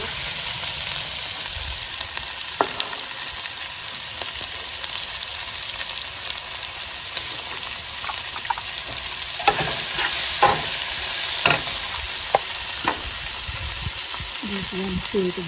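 Onions and green chilies fry with garlic in a pan, giving off a steady bright sizzle with occasional stirring scrapes and clinks, all close up and continuous.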